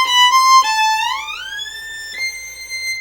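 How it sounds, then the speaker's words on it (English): A violin plays a classical (French) shift, the old finger sliding up to a higher position before the new finger replaces it, heard as a clear bowed tone gliding smoothly upward and settling on a sustained higher note, alone. "So there's the classical, or sometimes it's called the French shift,"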